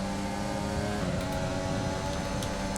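An F1 car engine in F1 2020 during a rainy race at the Austrian track, a steady high-pitched whining drone held at high revs, loud and close throughout.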